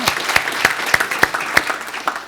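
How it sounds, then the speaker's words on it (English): Audience applause fills a room, a steady patter of clapping hands with sharper individual claps standing out, moderately loud and continuous throughout. "a big round of applause for standing up"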